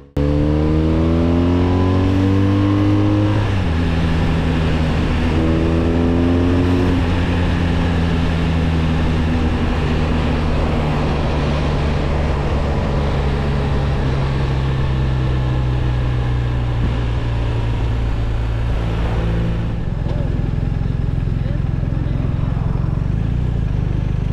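A 2024 1250 RT Sport motorcycle engine revving up close, pitch climbing through several gear changes before dropping back to a steady drone; no speech.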